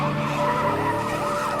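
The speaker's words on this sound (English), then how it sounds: "Tires screeching as it flees the scene." A sustained, loud screech of skidding tires with wavering pitch, over the low rumble of a car engine.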